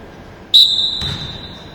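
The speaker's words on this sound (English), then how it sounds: "we're going to go on the whistle" A single sharp referee whistle blast starts a wheelchair basketball drill in a gym. It is loud and close, held for about a second, followed by faint court noise.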